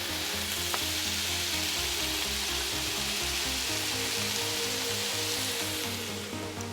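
Shakshuka sizzling and frying in a pan, a steady close hiss of bubbling sauce that continues without a break, no one speaking.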